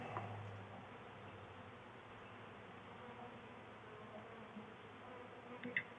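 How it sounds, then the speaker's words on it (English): A steady, close buzzing of many honeybees inside a package cage fills the clip, a continuous droning hum that stays even throughout. "All the bees are in there."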